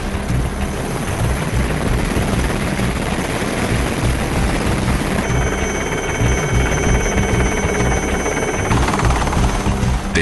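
A military helicopter sits with its engine running, a loud, steady turbine whine and rotor roar holding constant, with a sharper high tone joining midway.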